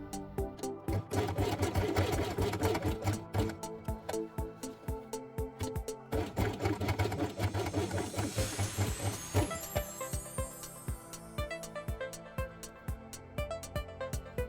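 A sewing machine stitches felt pieces for a Christmas train quiet book page, running in rapid, even bursts of needle clatter with brief pauses between runs, close and continuous throughout.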